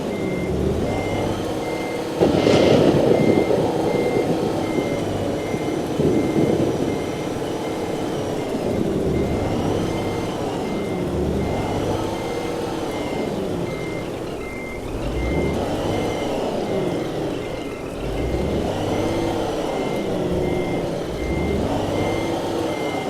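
A truck in Euro Truck Simulator 2 backs up, its reversing alarm beeping in a steady, evenly spaced series over a loud rumbling engine, with swelling and fading mechanical drones throughout.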